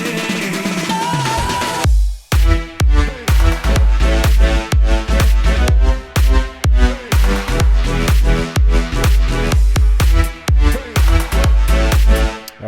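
An electronic dance track rises through a synth build, then drops into pounding kick drums and layered synth leads in a steady, loud beat.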